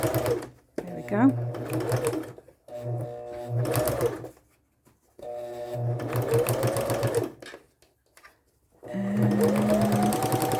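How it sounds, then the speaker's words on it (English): Domestic sewing machine stitching a fabric belly band, running in several bursts of steady rapid whirring separated by short pauses, close and fairly loud. "we're done with the sewing"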